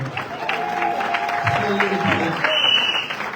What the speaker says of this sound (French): Acclame pour la gloire du Seigneur.